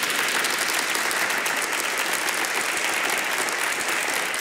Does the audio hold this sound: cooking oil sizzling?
no